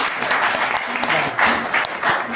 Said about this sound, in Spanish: Ahora sí que un aplauso por favor